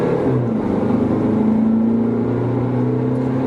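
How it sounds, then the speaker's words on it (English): A 2017 Jaguar F-Type diesel accelerating onto the highway, heard from inside as a steady engine drone whose low pitch slowly rises, with no talking. "I'm about ready to get on the highway here so we can check out and see how the engine goes."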